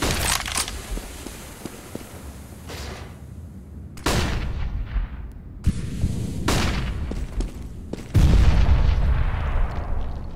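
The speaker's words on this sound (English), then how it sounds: "I'm throwing a flashbang." A flashbang grenade goes off in the video game CS:GO amid gunfire: several sharp, loud, close bangs with ringing, decaying tails, spaced a second or two apart, over a constant game background.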